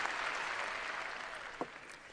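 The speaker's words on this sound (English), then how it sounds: "I want you to clap" Audience clapping at a presentation, a dense, even wash of applause filling the room for about two seconds, fairly quiet and steady with no voices over it.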